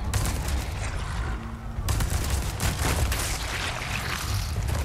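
Gunfire in Resident Evil 4 Remake: several sharp shots crack out in quick succession over a dense, noisy game background, with a brief lull before more bursts follow.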